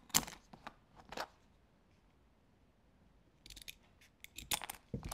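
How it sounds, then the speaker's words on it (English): Scissors snip through material to make animal castanets, in crisp bursts of several close, quiet cuts separated by pauses. "the great thing is I can cut one of these with just a pair of scissors"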